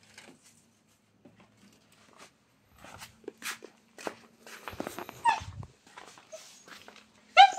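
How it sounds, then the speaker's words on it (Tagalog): Dog whimpering and whining in a quiet space, soft scattered whines that grow into louder high yelps near the end, with faint footsteps and shuffling. "Aso na dito."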